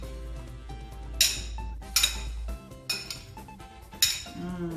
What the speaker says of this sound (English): you just give it a nice little toss like this